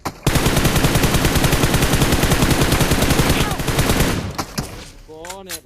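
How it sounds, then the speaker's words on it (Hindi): Rapid automatic gunfire in a battle royale video game, a loud sustained burst of shots that fires continuously for about four seconds before trailing off into other game sounds. "हम यहाँ पे आए और तभी पीछे से फायर आया।"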